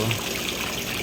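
Water pours steadily out of an aquarium filter into a tilapia tank, a dense continuous splashing rush heard close up with no pauses.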